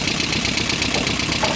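A 1981 Toyota 22RE four-cylinder engine with an exhaust leak runs steadily nearby. The loud, rough idle carries a ticking, uneven pulse, with no talk.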